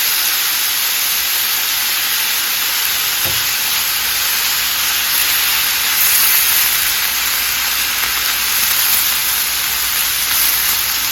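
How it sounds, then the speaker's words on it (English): Ground beef sizzles in vegetable oil in a pan over medium-high heat, a steady close hiss and crackle running throughout with a brief thump near the middle. "Now we're going to add the ground beef. This is on medium high."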